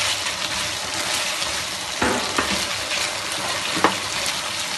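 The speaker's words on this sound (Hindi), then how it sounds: "तो हम अब इसमें जो सब्जियां काट के डाली हैं वो डाल रहे हैं" Chopped onion, capsicum, green chillies and tomato frying in a pan for chicken jalfrezi, a loud, dense, continuous sizzle with a couple of sharp clatters as the vegetables go in and get stirred.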